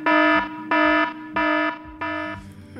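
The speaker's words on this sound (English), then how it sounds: "Good morning, my alarm just went off." An electronic alarm clock beeps in four loud, evenly spaced bursts, each lasting about half a second, with the last one slightly quieter.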